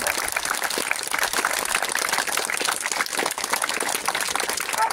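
A ceremony crowd applauds warmly at an outdoor memorial gathering, sustained dense clapping that holds steady throughout without a break.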